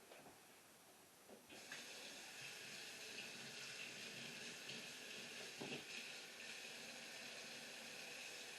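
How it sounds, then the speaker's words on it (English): Warm water starts gushing from a tap into a sink, a steady rushing hiss that continues evenly, close and moderately loud. "get our sink filling with warm water"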